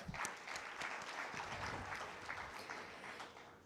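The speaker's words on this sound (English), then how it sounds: "So please give him a round of applause." A conference audience gives a round of applause for a panelist, individual claps audible within a moderately loud, fairly steady burst that holds across the clip.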